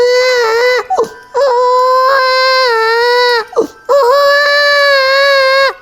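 A voice imitates a hungry baby crying, producing long, loud wailing cries in three sustained bursts separated by brief gasping breaths, close and alone.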